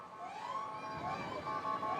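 Police sirens wail and rise and fall through the street during a Ventnor City twilight holiday parade, loud and continuous with traffic rumble underneath.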